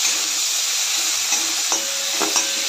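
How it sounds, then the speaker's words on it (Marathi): Onion, tomato and garlic sauté together in hot oil, a loud close sizzle with a few brief metallic clinks and scrapes of a spatula toward the end. "कांदा, टोमॅटो, लसूण, सर्व एकत्र करून चांगलं परतून घेऊया तेलामध्ये"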